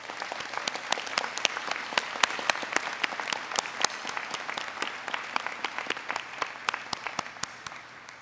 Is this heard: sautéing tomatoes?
no